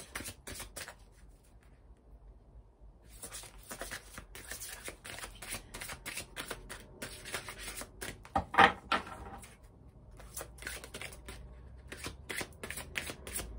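Oracle cards are shuffled in repeated quick riffling bursts, crisp and close, with pauses between them and one louder slap near the middle.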